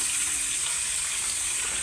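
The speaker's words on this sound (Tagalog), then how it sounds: "maghugas tayo ng ating pinagkainan" A tap runs continuously into a sink while dishes are washed, a steady close hiss of flowing water with no talking.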